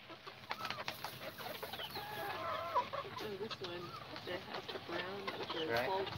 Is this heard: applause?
no